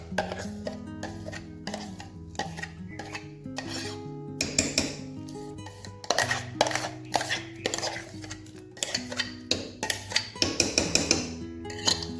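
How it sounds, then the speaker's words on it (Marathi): Poha paste is added to a pot of boiling water and stirred, with repeated metallic scrapes and clinks of a utensil against the pot in an uneven rhythm that grows busier toward the end. "आता पाणी छान उकळलं की गॅस कमी करायचा आणि मग ही पेस्ट आपल्याला त्यात टाकून"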